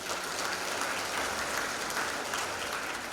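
Steady applause from a graduation ceremony audience honoring university graduates, a dense continuous clatter of many hands filling the hall at even loudness throughout.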